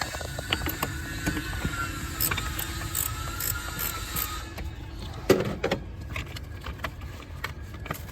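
Ratchet wrench loosening a 10 mm nut on an Isuzu D-Max 12 V battery terminal, heard as clicking ratchet strokes with metallic clinks, close and moderately loud, with no talking.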